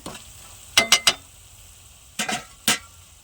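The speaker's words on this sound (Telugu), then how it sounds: "ఉప్పు కారం పసుపు బాగా ఇలా కలిసేలా మనము బాగా తిప్పుకోవాలండి" A spoon scrapes and clinks against a pan while spiced bean curry with salt, chili powder and turmeric is stirred, a few short bursts separated by quiet pauses, close and fairly crisp.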